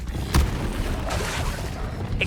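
Flipendo spell cast during combat in Hogwarts Legacy: one deep, loud thump early on, then a steady roar of game effects and noise for the remaining couple of seconds.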